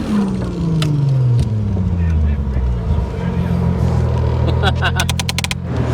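Car drifting at a beginner drift night: engine note dropping and surging alongside a rough skid, ending in a rapid train of sharp ticking bursts, with someone talking over it.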